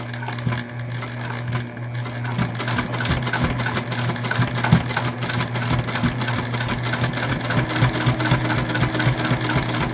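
A sewing machine runs steadily as it back-stitches a key fob wallet, with a constant mechanical hum and rapid needle clatter that continues without pause.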